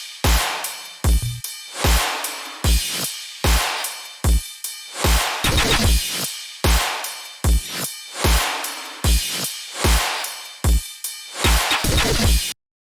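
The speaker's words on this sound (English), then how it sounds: "let's just hear it with the drums and the little effect sounds" An electronic dance track plays with only its drums and small effect sounds, no bass: punchy kicks land in a steady driving pattern under bright swelling noise sweeps, chopped crashes and pulsing sidechained washes, loud and close.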